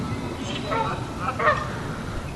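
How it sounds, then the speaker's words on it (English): Geese at a bird sanctuary honk a few times amid steady outdoor background noise, the calls moderately close and mixed with soft murmuring voices. "And a geese."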